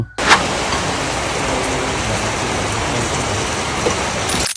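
Steady, dense rain pours down without a break, a constant broadband hiss filling the whole clip.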